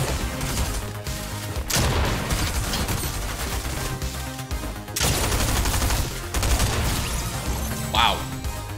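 Rapid SMG gunfire in the Fortnite video game, dense bursts filling most of the stretch with brief lulls, close and loud under game sound effects and a voice talking.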